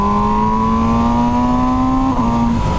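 An MV motorcycle engine ridden at night drones steadily and loudly, its pitch creeping slowly upward as the bike holds speed, with a brief shift near the end and constant wind rush.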